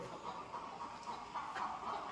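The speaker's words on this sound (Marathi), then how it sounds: "इथे बघा एकच याच्यामध्ये दोन कोंबड्या बसले आहेत" Soft, low clucking from hens in a poultry farm, a few murmured calls over a quiet indoor hum.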